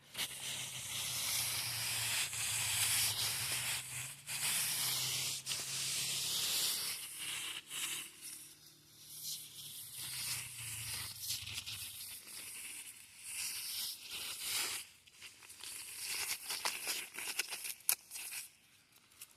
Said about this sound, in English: a sycamore leaf on sand.